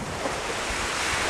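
Arctic Ocean waves breaking on the shore, a steady broadband wash mixed with wind buffeting the microphone, loud and continuous throughout.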